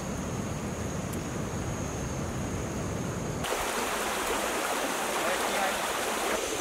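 Jungle river water rushes and flows steadily as a broad, continuous wash, with the sound growing brighter and fuller partway through.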